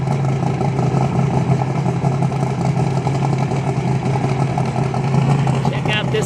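Twin-turbocharged drag racing car engine at a motorsports park during a testing session, a steady loud mechanical drone sustained throughout with talk over it.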